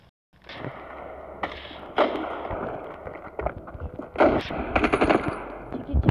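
M4 rifle gunfire in the video game Standoff 2 comes as rapid automatic bursts and sharp single shots, loud and close, with brief gaps between volleys and background game ambience.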